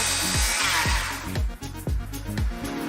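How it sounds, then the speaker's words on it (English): A circular saw cutting through wood during a kickback test, a loud close whine that bogs down and recovers in repeated surges with sharp drops in pitch, no speech. "I know how to run a circular saw the correct way"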